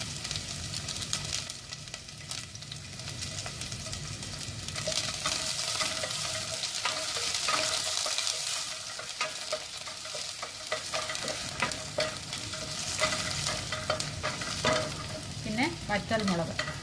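Crushed shallots frying with mustard seeds in coconut oil for a banana stem and green gram thoran, a close steady sizzle with scraping stirring strokes and some popping crackles.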